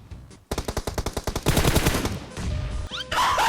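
Rapid bursts of automatic gunfire in the PUBG Mobile battle royale game, a loud rhythmic string of shots followed by denser, overlapping fire and a few whizzing ricochet-like sweeps.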